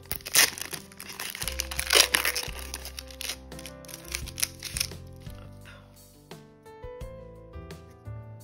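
Crinkling of a Japanese Pokémon card booster pack wrapper being torn open, close and crisp with sharp crackles over a soft musical background.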